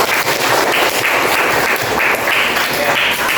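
Students in a sixth-grade classroom clap for a classmate, Ragil, after he reads a personal letter aloud: loud, close, busy clapping from a small group, fairly even throughout, with no talking over it.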